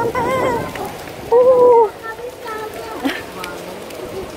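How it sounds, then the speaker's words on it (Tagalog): Heavy rain hisses steadily outdoors while people talk and exclaim loudly over it. "Yan, ang lakas ng ulan."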